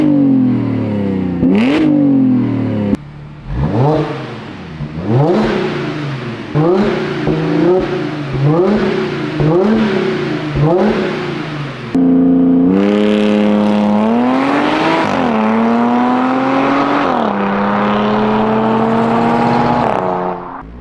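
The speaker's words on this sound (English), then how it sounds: "now we're gonna get some flyby clips so you guys can hear what the exhaust sounds like under load" An Audi with a newly installed aftermarket exhaust accelerates past under load in repeated flybys, its engine note rising through the revs between gear shifts, loud and close, then a long sustained pull.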